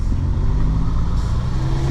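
Road traffic heard through an open car window while driving through Savannah, Georgia: a continuous low engine and tire rumble with passing vehicles, steady and fairly loud, with no voices.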